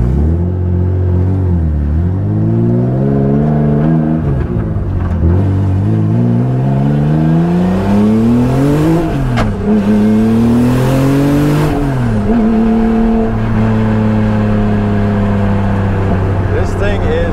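A car engine revs up and down through gears while driving, with a loud, close, throaty drone rising and falling steadily.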